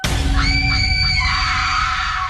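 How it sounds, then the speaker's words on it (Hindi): Loud, piercing scream from a girl in an animated Hindi horror story, one sustained high shriek with wavering pitch held for over two seconds above a dense rumbling background. "लड़की चिल्ला रही थी और मदद मांग रही थी।"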